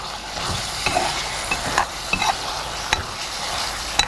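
Curry leaves and chicken sautéing in a pan for Pallipalayam chicken, a continuous sizzle under repeated scraping and clinking strokes of a stirring spoon, close by, with no voices.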